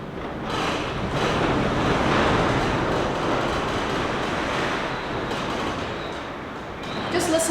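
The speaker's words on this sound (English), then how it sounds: "Just listen to that wind." Gale force wind at a New Zealand campsite, a loud continuous roaring gust that swells and eases slightly, buffeting close to the microphone with no break.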